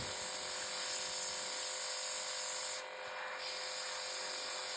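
A steady, faint hiss of a cordless airbrush spraying onto a paper towel continues throughout, briefly dipping midway before resuming.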